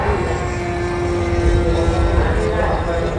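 A gasoline-powered radio-controlled model airplane flying over a small airfield at Thung Si Kan, its engine a steady, fairly loud buzzing drone that holds an even pitch throughout with a slight waver near the end.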